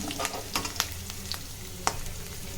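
Garlic, ginger, chili and curry leaves fry in a pan, cooking for a pork dish, with a constant close sizzle broken by repeated clicks and scrapes from a stirring spoon.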